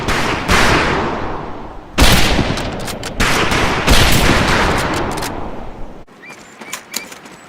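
Loud rapid rifle fire in a military shooter video game's training scene: sustained automatic bursts with a few sharp volleys, cutting off near the end to a handful of quieter, scattered shots.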